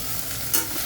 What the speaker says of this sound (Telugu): మంచిగా అంతా ఫ్రై చేసుకోవాలి.